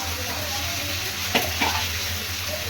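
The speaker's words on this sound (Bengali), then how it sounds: "আদা লঙ্কা পেঁয়াজ সব একসঙ্গে অ্যাড করে এখানে দিয়ে দিলাম।" Chopped ginger, green chili and onion sizzle and fry in a pan, a steady close hiss with a couple of brief stirring scrapes, no one speaking.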